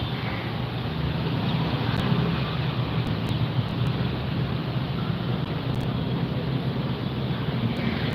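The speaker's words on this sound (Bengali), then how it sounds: "সুন্দর হাওয়া দিচ্ছে মনে হয় বৃষ্টি হবে" Wind rushes steadily and buffets against the microphone in a continuous broadband roar, with no talking heard.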